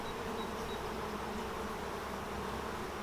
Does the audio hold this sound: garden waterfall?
no